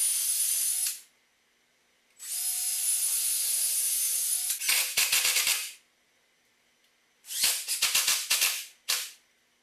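Screws driven into wooden loft bed headboard parts with a power driver: two long steady whines, each ending in bursts of crackling wood and grinding bits, then a shorter third whir and a brief final buzz, close and loud.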